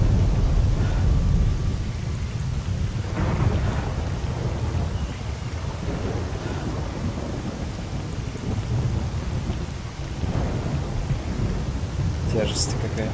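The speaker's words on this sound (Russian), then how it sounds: "Офигеть, вот это буря." Heavy rain pours steadily through a thunderstorm in the survival game MISERY 2.0, with deep rolling thunder swelling several times and a sharp crack near the end; a voice briefly speaks over the storm.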